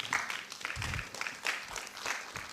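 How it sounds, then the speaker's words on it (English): An audience at an institute open day claps as a minister is welcomed to the podium, the clapping uneven and swelling in bursts, with a low voice briefly underneath. "With a round of applause, please, let's welcome him to give us his address."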